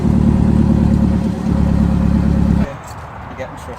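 Nissan Silvia S15 engine idling and revving toward 2,000 rpm with a new exhaust, a loud close throbbing drone that holds for a few seconds and then drops off sharply to quiet.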